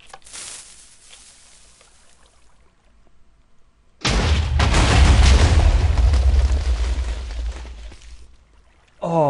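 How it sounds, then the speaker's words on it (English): TNT detonating in the Minecraft video game: a brief rumble, then a loud, sustained broadband blast with a deep low-end roar that rolls on for several seconds before cutting off, with another burst starting at the end. "Add a little bit more explosions."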